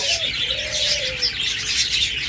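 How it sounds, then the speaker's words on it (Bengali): A pair of cockatiels chirps loudly and without pause, a dense stream of shrill, overlapping calls close by, with one brief lower whistled note near the start. "এখানে দেখুন আরেকটা ককাটেল জোড়া রয়েছে"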